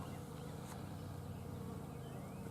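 Bees buzzing around a flowering crabapple in a spring garden, a faint, steady insect hum that carries on without a break and sits close to a low outdoor background.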